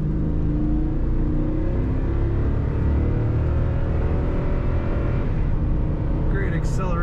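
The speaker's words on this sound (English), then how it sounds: "Great acceleration in this truck." A 2016 Toyota Tundra Crew 1794 Edition pickup accelerates with a loud, sustained engine drone and rising whir inside the cab, and a voice talks over it.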